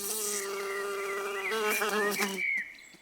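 A bee buzzes steadily close by among garden flowers with a wavering hum that shifts in pitch as it moves from flower to flower, then fades away.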